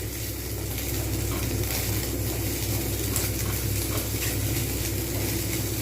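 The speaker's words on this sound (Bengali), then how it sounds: "আমি এটা একটু ভালোভাবে ভেজে নেব" Leftover roti chowmein fries in a pan with a steady close sizzle and faint scraping stirs, a constant frying hiss with no talking.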